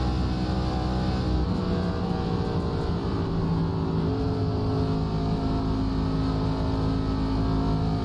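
A race car engine held under heavy throttle in iRacing, an ARCA Menards stock car on the Auto Club Speedway oval, droning loudly and continuously with a steady, slowly shifting pitch and no talk.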